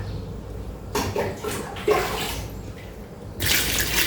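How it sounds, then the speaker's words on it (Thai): Water is poured into a pot for Thai candied kaffir lime, a liter going in as a couple of rushing, splashing bursts close by, with a quieter gap between them and no talking. "เทน้ำลงไปหนึ่งลิตรนะคะหนึ่งลิตร"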